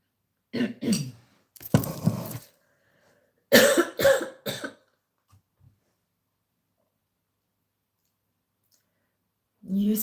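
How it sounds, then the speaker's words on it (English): A woman with a tickly throat coughs and clears her throat in short, close bursts separated by quiet pauses, with a soft click partway through and another cough at the end. "I did just cough to try and clear"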